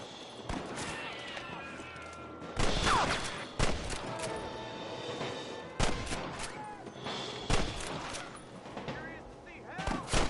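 Shootout gunfire in the western game Red Dead Redemption, sharp loud shots cracking at irregular intervals, some echoing, with voices and hoofbeat-like clatter in between.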